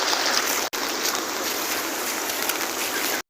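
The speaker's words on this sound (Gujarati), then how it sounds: "જળબંબાકાર વરસાદ આવી રહ્યો છે" Heavy rain pours down with flowing water, a dense, steady roaring hiss that fills the whole clip apart from one momentary dropout, with no voices.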